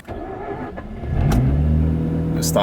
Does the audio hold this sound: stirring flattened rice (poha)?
no